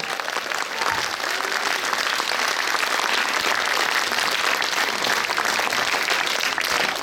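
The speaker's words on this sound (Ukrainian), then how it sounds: "Оплески, умнічки." Audience applause after a Latin American Lady Solo dance performance by a sport dance club hobby class, loud, dense and sustained from about the first second to the end.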